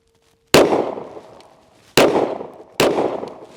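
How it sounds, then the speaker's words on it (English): Three sharp Walther PDP Match pistol shots ring out on a range, the first after a brief quiet lead-in and the last two close together, each leaving a long decaying echo. "We'll shoot another one here."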